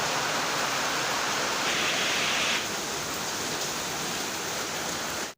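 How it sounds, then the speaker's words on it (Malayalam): Heavy rain pours outside, a dense steady hiss close by that fills the whole stretch without any talk. "ഓക്കെ, നല്ല മഴയുണ്ട്."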